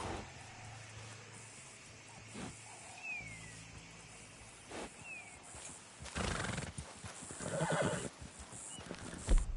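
A horse whinnies in short rising squeals, then hooves clop and shuffle close by, growing busier and louder toward the end over a quiet background.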